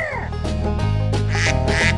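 A cartoon duck in a farm animals stacking game quacks several times in quick succession, loud and close over the game's bouncy background music.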